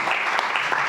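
Audience applauding at a book presentation for Óscar de la Borbolla: a dense, steady wash of many hands clapping together, loud and sustained with no voices over it.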